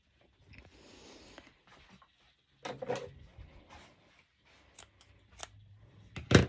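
Scissors trim the end of a fabric spaghetti strap during sewing, giving a few close, sharp snips and rustles in a quiet room with short pauses between cuts.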